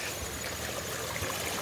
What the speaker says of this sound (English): this is a better view of this waterfall